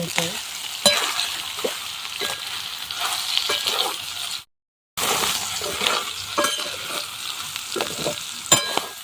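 Soybeans frying with garlic in a pan for a dry soybean bhaji, loud close sizzling with repeated clinks and scrapes of a spoon stirring, briefly cut to silence midway before the sizzle resumes.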